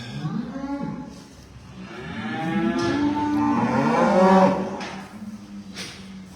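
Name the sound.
cow mooing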